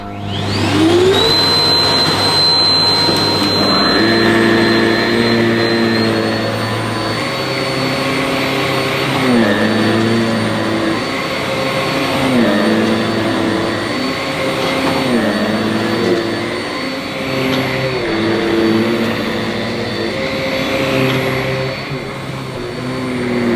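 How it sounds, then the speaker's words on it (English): A Bissell SmartClean Pet vacuum cleaner on its automatic setting runs with a loud, steady motor whine and airflow roar, its pitch wavering slightly as it moves, with no talking. "I'm going to use this machine on the automatic setting."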